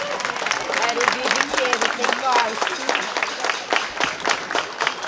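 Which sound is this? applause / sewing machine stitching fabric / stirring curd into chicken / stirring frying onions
applause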